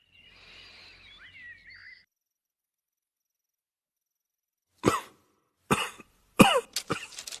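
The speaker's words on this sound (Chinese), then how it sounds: "怎么突然咳嗽起来了？" A king in a Warring States palace drama coughs roughly three or four times, close and fairly loud, in short bursts after a long silence. A faint chirping sound comes first.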